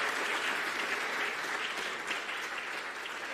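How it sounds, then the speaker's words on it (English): Audience applause at the Flock 2019 Fedora community conference wrap-up, a dense, steady roar of many hands clapping together throughout, loud and continuous with no talking over it. "let's give another round of applause to the organizers"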